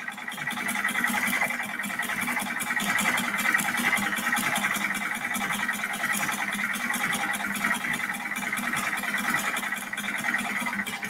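A sewing machine runs steadily while stitching a straight line, a continuous close mechanical whir with a fast regular stitching rhythm and no pauses, no voices.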